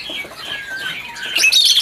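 Caged songbirds at a kiosk in the Pramuka bird market, heard as thin high calls and squawks that grow louder and busier toward the end, with no talk.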